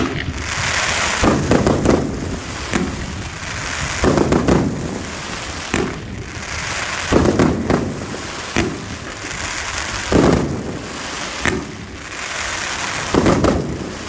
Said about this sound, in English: This is the crackling palm with crackling tail, module 2Q2